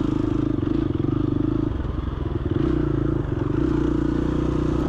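A dirt bike riding a tight single-track trail through trees at Red Rock, Texas, its engine droning loud and steady close by, with clattering and scraping from the trail mixed in.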